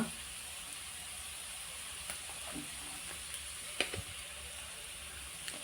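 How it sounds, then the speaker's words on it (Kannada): Fried rice stir-frying with soy sauce gives a faint, steady sizzle with occasional light clicks and stirring scrapes in a quiet kitchen. "ಸ್ವಲ್ಪ ಫ್ರೈ ಮಾಡುವ ಈಗ ಇದಕ್ಕೆ ಸೋಯಾ ಸಾಸನ್ನು ಹಾಕುವ"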